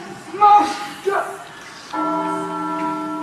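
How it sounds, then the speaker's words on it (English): In a stage musical of The Hunchback of Notre Dame, a deep church bell begins tolling with a sustained, ringing resonant tone that follows brief sung or spoken voices. "Now sound the bells and send the city to sleep."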